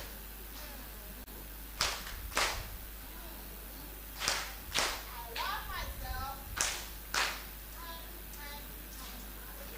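A church congregation at a women's ministry conference claps in sharp, separate bursts on a spoken count, each group of claps ringing out in a reverberant hall between stretches of talk.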